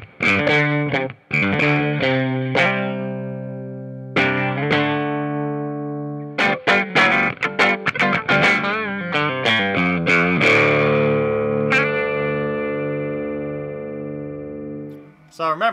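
A 2021 Fender MIYAVI Telecaster electric guitar played through its bridge humbucker pickup, thick and beefy, with quick picked riffs, sustained ringing notes and bends, loud and close, with no talking.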